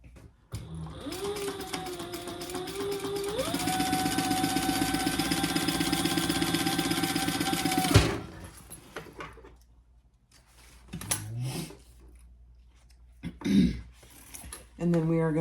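A sewing machine stitches the seam of a clutch wallet, its motor whirring steadily for several seconds before stopping, then fabric rustles and handling noises follow with brief talk.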